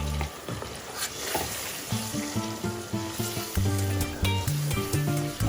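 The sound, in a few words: blended tomatoes frying with tomato paste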